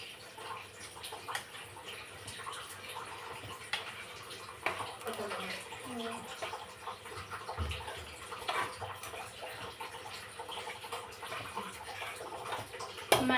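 Water running over fresh coriander leaves as they are washed, a steady low splashing and trickling with occasional drips, close and fairly quiet, with no talk.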